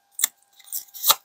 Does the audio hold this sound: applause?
no